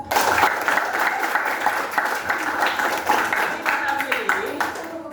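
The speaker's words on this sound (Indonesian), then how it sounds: "Boleh tepuk tangan" A classroom of students claps for a classmate after a maths pattern answer, a dense steady patter of hands lasting throughout, fairly near, with a voice briefly audible underneath.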